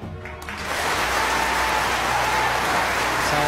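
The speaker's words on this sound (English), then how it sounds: "Tremendous applause there, and what a treat this audience is having today." Sustained applause from a snooker final audience at a 1992 championship match, rising after a brief quieter start into a steady, dense clatter of clapping that fills the hall.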